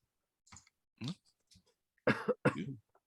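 Several harsh zombie coughs from a video game at close range, a couple of short ones followed by two louder, rougher bursts, with quiet gaps between them.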